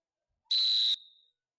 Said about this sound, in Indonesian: Ada peluit, langsung lari.